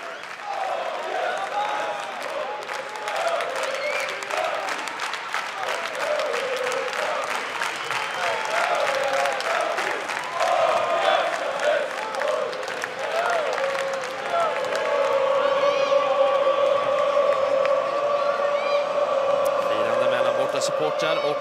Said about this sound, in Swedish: Burop från Hammarby supportrarna